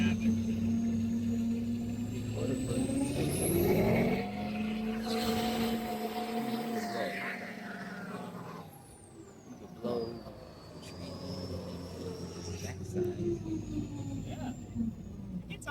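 A custom-built diesel truck engine revs under about three-quarter throttle, its pitch climbing steeply before settling into a steady, loud drone, with voices talking over it.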